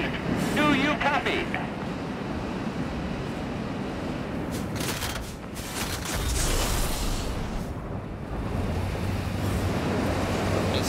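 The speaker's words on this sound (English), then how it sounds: "There's a heavy storm here." A heavy storm in the World of Warplanes video game, with wind gusting and waves surging in a constant, rough roar that dips briefly and builds again.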